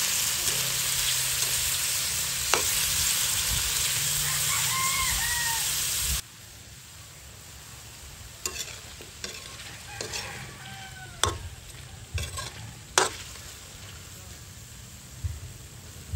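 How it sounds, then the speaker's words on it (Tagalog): Food sizzles loudly in a hot pan while being stirred, then the frying drops to a quieter hiss with scattered scraping strokes of a spoon against the pan. "haluin ko lang sandali bago tayo maglagay ng toyo at suka"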